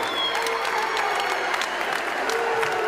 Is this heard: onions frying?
no